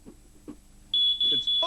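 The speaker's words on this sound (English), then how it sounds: "we hadn't checked one of these alarms with real smoke" A smoke alarm set off by real smoke blares in three loud, shrill beeps after a few short spoken words.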